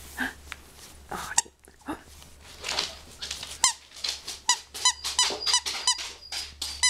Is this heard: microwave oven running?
no